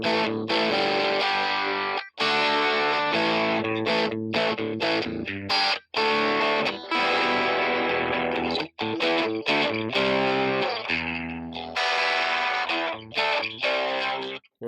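Electric guitar played through an amp with the gain near 7 for a blues crunch, strumming loud distorted chords in short bursts separated by brief pauses, with no voices.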